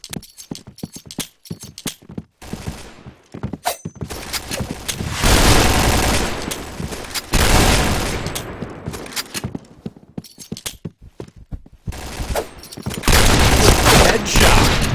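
Gunfire in the shooting game Point Blank: bursts of rapid clattering shots alternate with sustained automatic fire, loud and close, several long volleys broken by short pauses.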